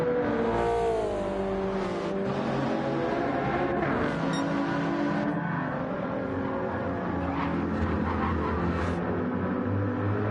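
Race cars in Gran Turismo 7 during a Le Mans endurance race: a loud, continuous engine roar that rises and falls with gear shifts as cars drive into a chicane, with no talking.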